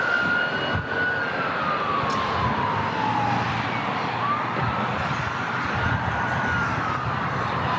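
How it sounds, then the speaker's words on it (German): A wailing ambulance siren rises and falls steadily in the distance near Los Angeles airport (LAX), over a constant background roar of traffic or engines, no talking. "Krankenwagen."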